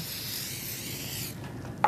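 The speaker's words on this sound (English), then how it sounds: "we're just going to spray these with the vegetable spray" Vegetable cooking spray hisses steadily from an aerosol can onto pumpkin-dip dippers for about a second and a half, close and continuous, then cuts off, followed by a faint tap.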